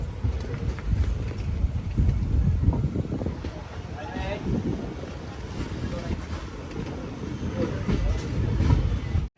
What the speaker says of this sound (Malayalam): തെങ്കാശി ജംഗ്ഷൻ റെയിൽവേ സ്റ്റേഷനിലേക്ക് ഇതാ ട്രെയിൻ എത്തിക്കൊണ്ടിരിക്കുകയാണ്.